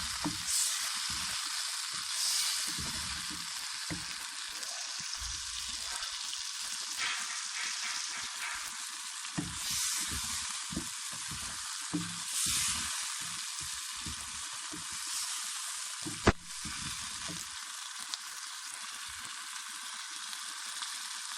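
A pea and potato mixture fries in oil with a steady, bright sizzling hiss, punctuated by soft stirring bumps and one sharp tap, close by and without voices.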